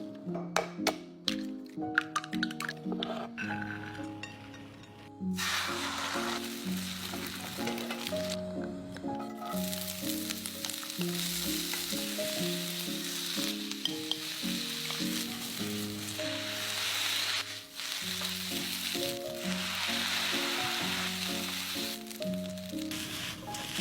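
Egg fried rice sizzles and fries loudly in a hot pan, a steady hiss that starts after a few seconds of clinks and lasts to the end, under background music with no talk.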